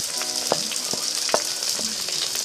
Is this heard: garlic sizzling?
yes